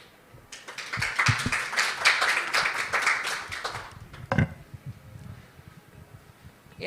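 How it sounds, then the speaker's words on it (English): A conference audience at a foreign investors summit gives guests a warm round of applause: dense clapping swells quickly, holds for several seconds, then thins out to scattered claps and room noise. "it's better to welcome our guests with a warm round of applause"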